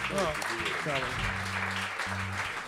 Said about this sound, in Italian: facciamo un applauso a Francesco parole.